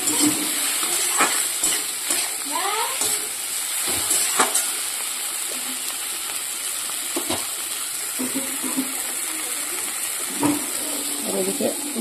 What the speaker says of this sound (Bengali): তো শাকটা দিয়ে দিয়েছি। এবার আমি হালকা ভেজে নেব।